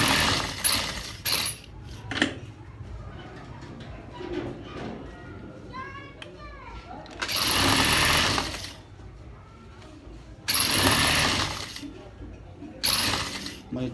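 A sewing machine stitches a side pocket in short bursts of rapid mechanical whirring, separated by pauses with faint handling sounds and quiet background noise.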